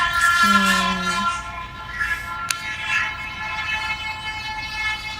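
A train horn from a film scene with two trains facing each other, sounding a long, steady two-tone blast at the start and then fading. A sharp click and a low rumble follow.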